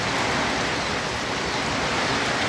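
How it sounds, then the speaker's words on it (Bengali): Sudden rain driven by stormy wind makes a loud, unbroken rushing hiss near at hand, even throughout, with no voices. "হঠাৎ করে বৃষ্টি এবং ঝড়ো বাতাস"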